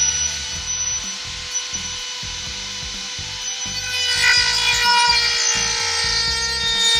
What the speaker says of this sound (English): I'm just gonna go ahead and use it because the Dremel's easiest to cut.